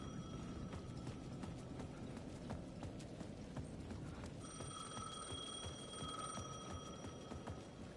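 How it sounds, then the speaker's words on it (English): A video-game payphone rings in repeated electronic trills over a steady background of clopping footsteps, fairly faint and distant, at the edge of a plaza. "The payphone at the edge of the plaza was ringing again."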